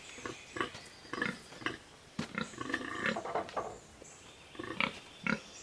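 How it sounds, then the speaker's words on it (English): Pigs in a farrowing barn grunt and snort close by, giving a series of irregular, throaty grunts in bursts with short pauses between them. "You can hear the pigs grunting"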